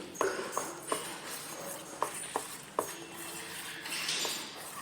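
A spoon mixes breakfast batter in a bowl, tapping and clinking against the sides in a loose, irregular rhythm of sharp little knocks over soft scraping, close and fairly quiet with no talking.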